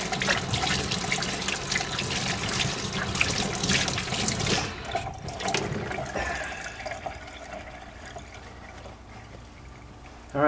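Water runs loudly from a tap as hands are washed with bar soap after an oil change on a 2003 Honda Odyssey, then fades to a quieter trickle partway through.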